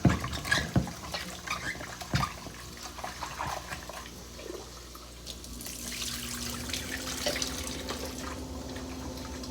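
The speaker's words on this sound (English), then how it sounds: "let me wash these off real quick" Peeled vegetables washed under a running kitchen tap: a few knocks and clatters at first, then a steady stream of running water with light splashing, fairly close, with no talking.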